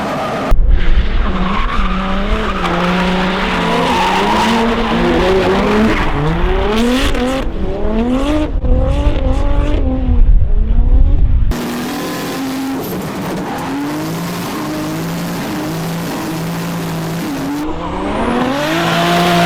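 Drift car driven hard at Crail, Scotland, its engine revving in rising and falling sweeps with loud, continuous tire squeal through slides, a brief cut midway, then more revving and screeching.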